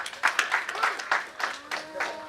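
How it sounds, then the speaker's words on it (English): Audience at a chartered accountants' day celebration applauding, scattered hand claps in uneven bursts, moderately loud, with voices speaking over them. "She deserves a big round of applause."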